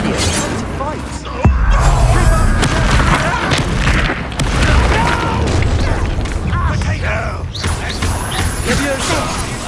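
Incendio fire spell blasts in Hogwarts Legacy combat: repeated heavy booms and fiery bursts churn continuously, loud and close, with voices talking over the fight.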